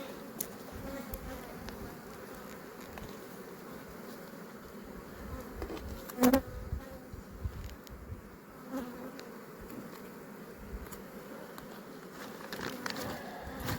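A dense, steady buzz of many honey bees droning continuously at close range at the hive, with a single soft thump partway through.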